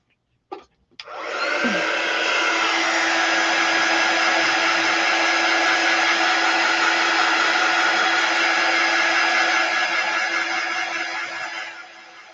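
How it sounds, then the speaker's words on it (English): A hair dryer blows steadily on painted wooden snowman blocks, a loud continuous whoosh with a faint whine that starts after a brief click and runs for about eleven seconds before cutting off. "Give those a good blow dry."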